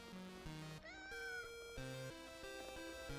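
A cat meows repeatedly in the video game PowerWash Simulator 2, a string of clear, fairly loud meows and caterwaul-like tones with no voices over them.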